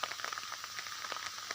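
Heavy rain falling steadily outdoors in dark, stormy weather, a dense continuous hiss of drops with scattered brief spatters, moderately loud and without voices.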